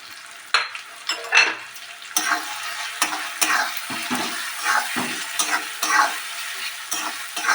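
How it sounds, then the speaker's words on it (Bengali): Mushrooms fry in hot oil with spices, a steady crackling sizzle broken by repeated scraping stirs of a spatula in the pan, close and fairly loud, with no talking. "আমি মাশরুমটাও কষতে থাকবো, তার সঙ্গে মশলাও আমার কষে সব একসঙ্গেই হয়ে যাবে।"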